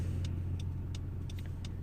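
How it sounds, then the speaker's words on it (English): Road traffic passing by, a steady low rumble of car engines holding throughout, with faint intermittent higher noises over the continuous drone and no talk. "A lot of traffic right now."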